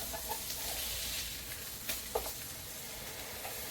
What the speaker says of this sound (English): So we've got our burgers cooking.